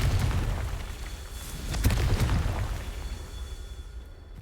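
A fiery Confringo spell blast in the Hogwarts Legacy video game, a loud close boom with a rumbling low-end tail and a couple of sharp pops within it, heard with no talking.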